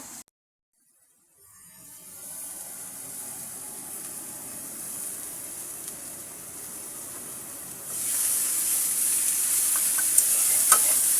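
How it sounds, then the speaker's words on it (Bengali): Vegetables, pumpkin-vine flower fry, sizzling in a pan as they are stirred, a steady frying hiss that grows louder and brighter partway through, with a few small pops and no voices. "এবার আমি ভাজিটাকে নেড়ে দিব যেন পুড়ে না যায়।"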